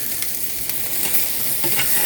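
Flounder fillets deep frying in hot oil give a steady, close sizzle with bubbling crackle that runs unbroken, with no voices over it.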